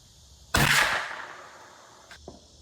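A single sharp .22 rifle shot fired outdoors at a target about 25 yards away, a crisp crack with a short decaying echo, followed by a faint distant click.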